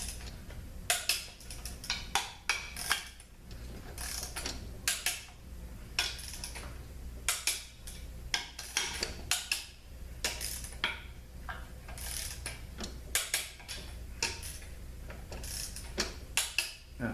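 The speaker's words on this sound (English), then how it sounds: "So we're going to tighten these to 20 foot-pounds." A torque wrench tightens bellhousing bolts on a 6L45/50 transmission to 20 foot-pounds in a star pattern, giving repeated close ratcheting clicks in irregular bursts over a low steady background hum.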